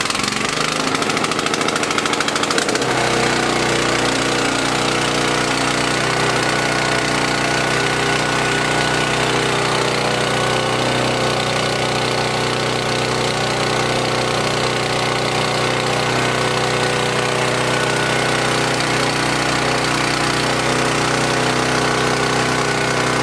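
Several small engines run side by side during a fuel additive test, a loud, unbroken, buzzing mechanical drone with a faint rapid knock that settles into a steady tone after the first few seconds.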